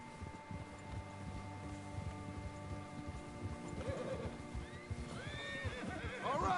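A horse in the open-world western game Red Dead Redemption 2 gives a clear whinny near the end, rising over a low, steady bed of ambient game sound and distant hoofbeats.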